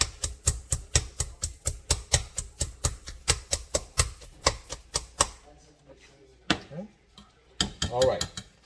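A knife chops collard greens on a cutting board in a steady, rapid series of about two dozen sharp, close knocks, then stops, followed by a few faint handling noises and a louder scrape or rustle near the end.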